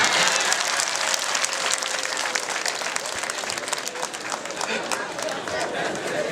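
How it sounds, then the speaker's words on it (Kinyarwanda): Lively applause from a wedding crowd at Nkindi's wedding, dense crackling clapping that holds steady throughout with murmuring voices mixed in. "Baguha amashyi."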